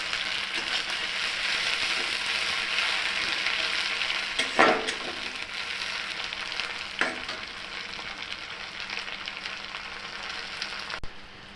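Tomatoes and slit green chillies going into hot oil in a frying pan for spicy tomato chutney: a continuous close sizzle and frying hiss with a couple of short stirring clatters, no talk.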